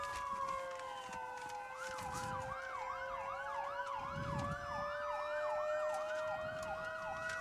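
Several emergency vehicle sirens wail loudly and continuously with rising and falling sweeps at a small-town festival parade, layered over each other with crowd and traffic rumble beneath.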